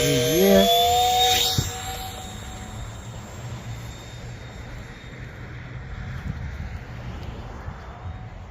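A small 2S brushless electric ducted-fan RC jet (F-35 or J-35 model) flies past outdoors, a loud whining whoosh with a rising tone in the first two seconds that fades into steady wind and distant hum.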